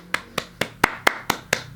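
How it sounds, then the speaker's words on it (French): Eight sharp hand claps in a steady rhythm, close and fairly loud, from one or a few people, with no talk over them. "Clairement, je pense qu'on peut les applaudir."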